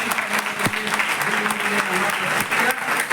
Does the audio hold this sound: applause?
yes